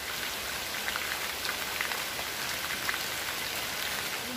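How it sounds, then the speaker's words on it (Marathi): Steady rain pours down outdoors near a lake in Konkan, a dense, even hiss of drops on surfaces that holds at constant strength throughout with no voices. "पाऊस चालूच आहे"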